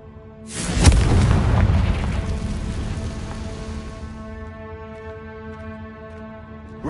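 The Confringo explosion spell from Hogwarts Legacy, heard as a single loud, close boom that bursts and crackles, then decays over several seconds into a lingering tonal ring.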